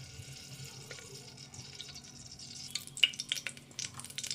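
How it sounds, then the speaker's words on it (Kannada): Mustard seeds crackle and spit in about two tablespoons of heated oil during tempering. Faint at first, the irregular pops grow denser and sharper over the last couple of seconds, with no talking. "ಸಾಸಿವೆ ಚಿಟಪಿಟ ಅಂತೈತೆ"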